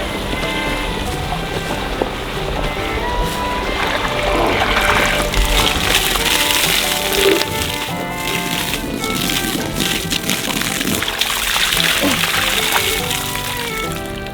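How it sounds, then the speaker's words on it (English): Water runs steadily from a small pump hooked up to a house sink, a continuous splashing rush with scattered clatters and knocks, holding at a fairly even level throughout. "So we do have running water in the house"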